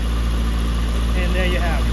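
A hydro jetter's engine runs steadily with the throttle opened a bit more for extra pressure, a continuous loud droning hum with a faint whine rising over the last half second.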